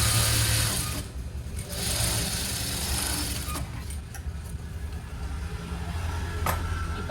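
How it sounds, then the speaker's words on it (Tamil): A sewing machine runs a straight seam along a blouse's lining cloth, its steady mechanical whir continuing through the whole stretch with small bumps and pauses, close and fairly loud, with no talking. "நீங்கள் நேர் ஸ்ட்ரைட்டாக தையல் போட்டுக்கலாம்"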